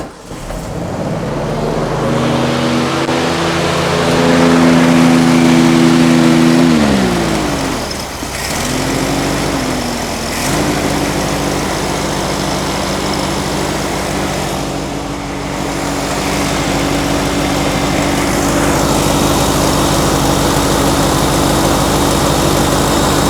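A 1957 VW Beetle air-cooled engine cranks and catches, revs up with a rising buzz, dips and stumbles, then settles into a loud steady idle close by for about twenty seconds.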